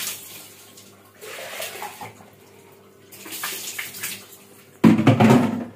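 Water splashing and pouring while a small child is bathed, soft sloshing in bursts that grows to a louder, closer gush near the end.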